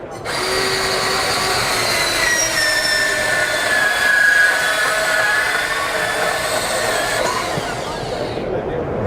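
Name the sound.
Makita cordless bandsaw cutting 2-inch conduit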